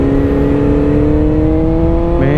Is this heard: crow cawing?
no